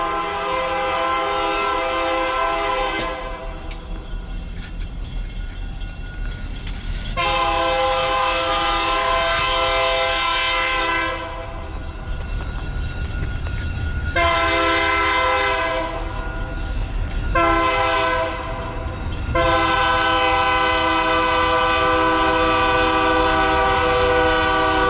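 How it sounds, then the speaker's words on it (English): A train rolls past while its horn sounds in a series of long, loud blasts separated by short gaps, with rumbling wagon noise running underneath throughout. "Oh, here comes the train."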